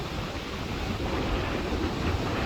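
Gusty wind and stormy sea surf on the Black Sea coast at Arkhipo-Osipovka make a dense, constant roar with low rumbling and wind buffeting against the microphone, with no break.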